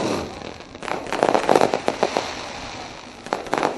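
Fireworks bursting over a sprint car speedway at night, a rapid run of sharp cracks and pops in clusters, loud and close with a brief lull before a final volley.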